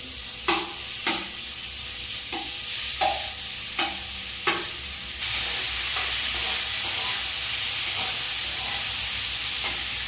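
Boiled vegetables tipped into a pan of fried cashews, a few sharp spoon knocks against the pan before a loud, steady sizzle takes over and holds, close up with no talk.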